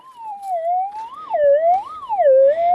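A metal detector's tone sweeps up and down in a warbling, siren-like wail over a buried target while searching at an abandoned gold mine; the signal is loud, close and continuous, with no talking.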